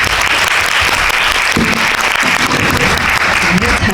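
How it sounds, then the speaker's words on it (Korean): Steady, dense audience applause fills a Korean cinema at a memorial special screening of the 2018 film Nabijam as the actor and director enter, loud and continuous throughout with a faint voice underneath. "박수 한번 부탁드릴게요."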